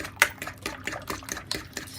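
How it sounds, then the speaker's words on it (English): A fork clinks and scrapes in a bowl, loosening up ingredients for an apple, almond and pecan traybake. The taps come quick and irregular, close and clear, with no voices. "let me take a fork, and we need to just make sure that these are all loosened up"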